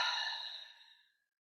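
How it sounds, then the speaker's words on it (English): A single deep, breathy exhale fades out over about a second, soft and close, with no other sound, taken during a guided breathing exercise. "and then just exhale, let them go."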